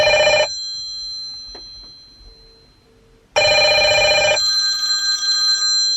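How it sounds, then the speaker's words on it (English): An incoming call rings through a car's Bluetooth system with loud electronic telephone-style bursts: a short ring, a quiet gap with a faint soft tone, then a longer ring that continues, with no talking. "So I'll just call the phone that this is connected to now"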